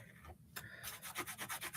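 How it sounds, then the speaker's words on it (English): Drill boring into a piece of scrap wood, close by, with a steady run of rhythmic grinding pulses in its second half and no talk. "I'm just like drilling into some scrap wood over here."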